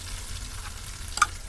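Curry leaves, turmeric and coarse salt stirred in a hot pan for a cauliflower masala curry, giving a low steady frying hiss with one brief scrape of the spoon near the end.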